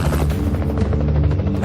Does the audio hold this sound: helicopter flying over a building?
yes